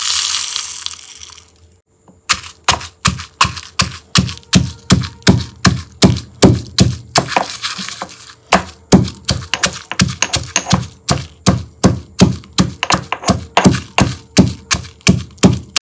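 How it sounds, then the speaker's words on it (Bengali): Roasted whole spices being crushed in a mortar and pestle for a Bengali raw mango pickle: a steady run of sharp, close pounding knocks, roughly two per second, after a brief rustle and a pause. "মশলাগুলোকে কিন্তু আমি এখন এর মধ্যে আমল দিস্তাটার মধ্যে কিন্তু একটু গুঁড়ো করে নেব"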